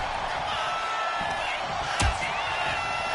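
A wrestling arena crowd at an ECW event roars in a dense, sustained wash of cheering, with a sharp slam-like thud partway through and commentary voices over the noise.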